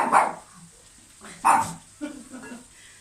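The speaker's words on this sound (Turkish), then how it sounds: "Dışarıdan köpek sesi duydu ya ona havlıyor." Three sharp dog barks from indoors at a dog heard outside, close and fairly loud, spaced out with short pauses between them.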